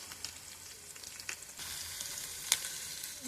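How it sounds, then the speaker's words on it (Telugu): Onions fry in oil until they turn brown. A soft, continuous sizzle is heard close by, with a few light stirring clicks and one sharper scrape, and no talking. "ఇలా ఆనియన్స్ వేసుకొని ఇవి కొంచెం బ్రౌన్గా అయ్యేటట్టు ఫ్రై చేసుకోవాలి"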